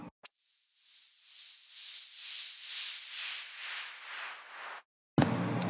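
White noise riser in an EDM build-up, pumping down and back up in steady rhythmic swells as it ducks under a kick drum like sidechain compression, then cutting to silence before a short loud burst of music.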